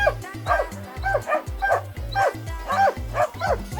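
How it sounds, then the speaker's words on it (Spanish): Dogs in a rural Argentine village bark wildly, a rapid, repeated string of yips and barks with whimpering notes, close and loud, continuing without pause for several seconds. "Y los perros se han enloquecido."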